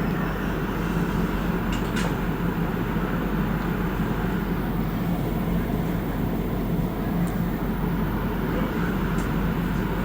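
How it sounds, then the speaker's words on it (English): Steady loud rumble and hiss of a Montreal Metro Orange Line train running along the rails as it arrives at a station, with a few faint high squeals, constant throughout. "we got the train coming here from the other direction"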